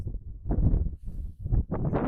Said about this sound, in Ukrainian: вітер, вітер, отут прям взагалі відчувається сильно